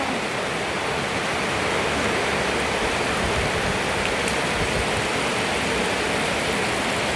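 Steady, dense rain hissing evenly throughout, a constant wash of falling water with no voices or other clear sounds.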